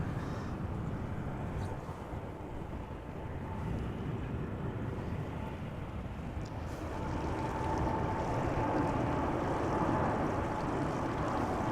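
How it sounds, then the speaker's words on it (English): A Boeing Dreamliner jet takes off from Amsterdam Schiphol, its engines a steady, broad roar that swells slightly toward the end, heard from a distance without any talking. "Dreamliner taking off from center, Dreamliner 10 by the looks of it"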